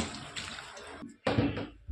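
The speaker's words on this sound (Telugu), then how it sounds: "శుభ్రంగా వాటర్లో వేసుకొని వాష్ చేసేసుకోవాలి" Drumstick leaves and curry leaves washed by hand in a bowl of water, giving a close, continuous swishing and splashing that breaks off briefly, then resumes.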